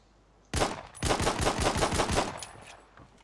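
Rapid pistol fire from a Luger or Colt in the Battalion 1944 video game: a sharp first shot, then a fast string of about nine closely spaced loud shots that fade into a short decaying tail.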